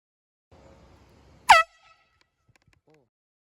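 A single loud air horn blast goes off as a prank outdoors, following a stretch of faint low rumble; the sharp honk lasts about a fraction of a second and then fades into near silence with a few small distant sounds.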